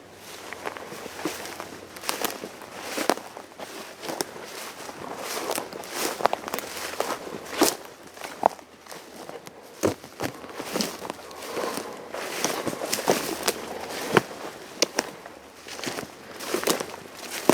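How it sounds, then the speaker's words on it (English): Footsteps outdoors, a series of faint crunching steps and crackles in the distance, irregular and soft against quiet background noise. "Stepping noise. Right in the direction I'm pointing."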